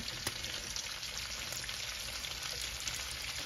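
Celery and onion sizzling in a pan, a dense, even frying hiss held close and constant throughout with a few faint crackles.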